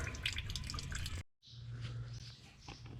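Water drips from the rear end of a 1969 Minneapolis Moline U302 tractor, making quick, faint close-up drips. A brief silent gap breaks the dripping before it resumes.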